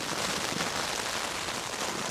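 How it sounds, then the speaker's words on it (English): Dense, steady patter of rain drumming on a camping tent in wind, a continuous loud hiss with no breaks and no speech. "lovely calm weather, and the rain came in"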